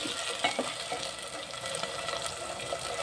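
Potatoes fry in hot oil in a pan for an aloo palak masala curry, a steady close sizzle with occasional stirring scrapes and light clinks throughout, no voices.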